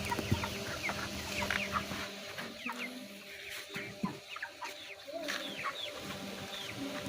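Chickens on a rural fish-pond farm cluck steadily throughout, with several overlapping birds calling near and far in busy, continuous chatter.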